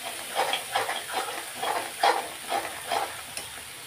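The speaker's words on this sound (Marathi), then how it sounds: "सगळा मसाला आहे तो तेलात चांगला लालसर होईपर्यंत परतून घेणार आहे" Spice masala frying in oil until reddish, with soft repeated bursts of sizzle and stirring in a steady rhythm, close and moderately loud with no talking.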